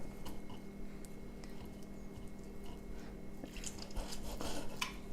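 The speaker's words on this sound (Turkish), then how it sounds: "Şimdi kuru domateslerimizi doğrayalım" A knife chops sun-dried tomatoes steadily on a cutting board, with soft, moist crunching cuts repeating close by.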